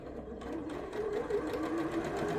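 A sewing machine started with its start/stop button instead of the foot pedal runs steadily, a close continuous motor whir that stays at a constant level throughout.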